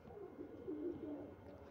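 A Punjabi pigeon gives a soft, low cooing call, quiet and close, rolling in a short murmur over faint background noise.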